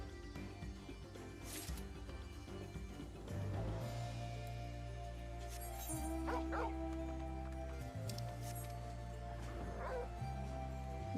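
A dog indoors barks and whimpers, with intermittent yips and whines over a low steady hum in a room, fairly quiet and close.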